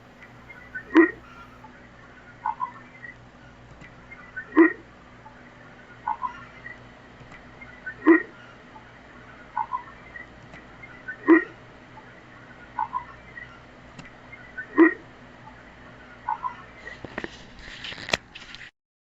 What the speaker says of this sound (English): This audio clip is a grunt with a frog